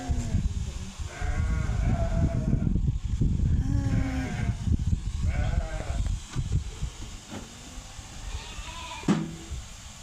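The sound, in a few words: sheep bleating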